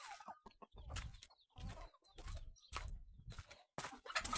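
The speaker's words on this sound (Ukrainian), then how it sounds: "Індичка з індичатами." Turkey hen with her small poults, soft scattered peeping and clucking calls in short bursts with quiet gaps, fairly close and faint.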